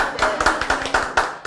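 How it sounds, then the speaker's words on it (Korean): Church congregation clapping hands together during a sermon, a series of sharp, fairly rhythmic claps close by, roughly a few per second, with little else around them. "박수를 금방 쳤는데 누구한테 쳤어?"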